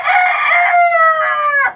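One loud, close rooster crow fills the whole moment, a sustained call that wavers in pitch and trails off at the end.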